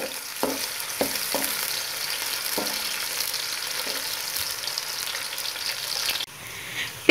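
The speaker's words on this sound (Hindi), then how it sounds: "अब हम इसके अंदर प्याज डाल देते हैं। प्याजों को हम लाइट ब्राउन करेंगे।" Onions sizzle and fry in hot ghee in a pan for a Pakistani aloo matar tinda curry, a steady close crackle with a few scraping stirs and no voices.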